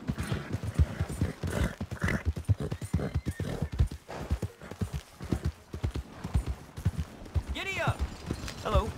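A horse in the video game Red Dead Redemption 2 clip-clops at a steady trot, its hooves close and rhythmic, while people talk over it and a short whinny rises near the end.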